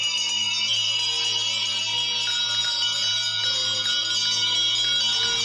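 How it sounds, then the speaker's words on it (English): An old bell rings steadily inside a house, a continuous bright metallic tone sustained throughout with no talking. "Without warning, an old bell began to ring."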